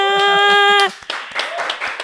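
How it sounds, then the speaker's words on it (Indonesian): Brief clapping from an audience at a youth talk-show event on drawing, following a held synthesized tone; the claps start out sparse and patchy, then turn into a short, scattered round that fades under a voice. "kita mau kasih tepuk tangan yang paling meriah dulu teman-teman semuanya"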